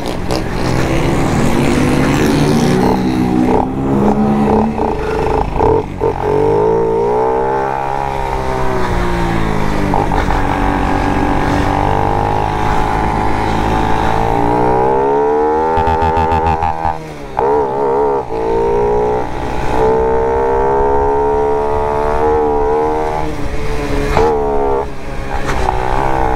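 A Honda Pop 110 motorcycle with no air filter and a reversed intake hose, ridden and revved, its engine loud and continuous throughout with rising and falling pitch as it accelerates through the gears.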